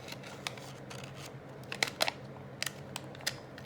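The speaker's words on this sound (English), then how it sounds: "can neaten that up with the scissors, I think." Several sharp scissor snips cutting vellum, scattered and irregular, close by in a quiet room.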